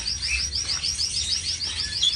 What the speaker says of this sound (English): I wonder what kind of parrots those are over there.